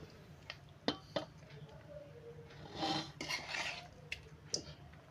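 Chicken pieces are tipped into a pot of chicken biryani, giving quiet scraping, clinking and soft wet rustles of a spoon against metal, with a few sharper taps at intervals.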